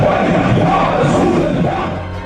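Massive protest crowd filling a Lahore highway for kilometres, a loud continuous roar of many voices chanting and shouting together, dense and close throughout.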